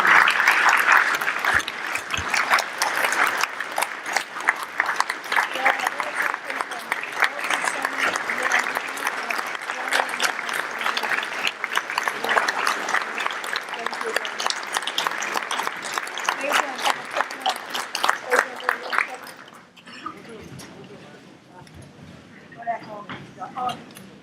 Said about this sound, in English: If you please join me in giving a nice big round of applause to John.